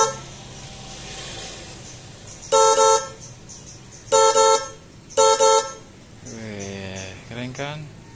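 Soundblax K90 snail horns wired in parallel on a motorcycle blast three loud, short honks, each about half a second, over a quiet idle hum, followed by a person speaking.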